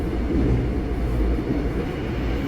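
A subway train on the Daegu metro near Banwoldang, a steady loud low rumble and rolling roar heard from inside, with no speech.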